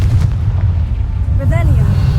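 A Confringo blasting spell in Hogwarts Legacy goes off as a heavy, booming burst, loud and close, with a voice briefly speaking over the game sounds.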